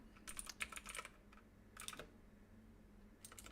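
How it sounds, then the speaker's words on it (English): Quick bursts of keyboard typing, clicking keys in short clusters separated by pauses, close and fairly quiet. "I keep typing an R for some reason."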